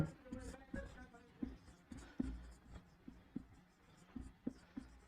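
Quiet writing on a board while a Class 10 quadratic equations problem is worked through, with a rhythmic series of close scratching strokes and taps running throughout and no talk.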